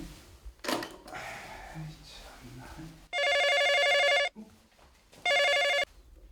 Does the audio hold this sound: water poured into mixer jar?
no